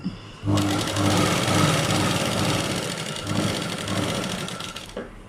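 A sewing machine runs steadily while stitching a blouse, a close continuous mechanical whir with a rapid needle rhythm that starts abruptly and stops near the end.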